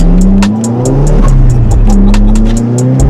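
A loud car engine, from a stripped-out 300bhp Renault Megane RS or a 330bhp Audi S3, revs and drones up close, pitch climbing steadily with a rhythmic ticking overlay, no voices.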